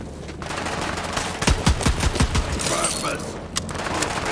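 Pistol gunfire in Borderlands 3, a quick run of sharp repeated shots clustered in the middle over background game noise, with a voice talking faintly under it.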